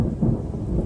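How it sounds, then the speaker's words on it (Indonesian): A deep, continuous rumble of thunder rolls through a stormy sky, loud and steady throughout, with a hint of rain beneath it and no voices. "Misalkan kalian bisa dengar sendiri suara petir."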